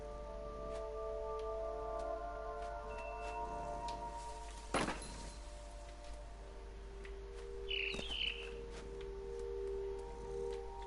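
A scared bird chirps in the video game What Remains of Edith Finch, a brief, faint flutter of chirps late in the stretch over quiet game ambience, after a single sharp tap.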